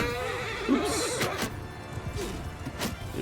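A horse in the battle game Mount and Blade Bannerlord gives a loud, close neigh as it is killed, its whinny rising and falling over clip-clop hoofbeats and crashing combat impacts.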